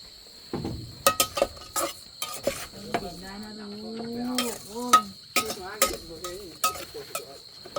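Food being stir-fried in a pan at a rural family cooking spot, with repeated metallic scrapes and clanks of a utensil against the pan at an uneven rhythm, under a faint sizzle and some speech.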